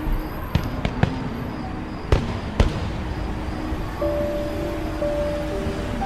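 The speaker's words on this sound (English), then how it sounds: "Christmas fireworks." Christmas fireworks in a video game burst as several sharp, scattered pops and cracks, some close together, followed by a steady tonal hum under a quiet ambient background.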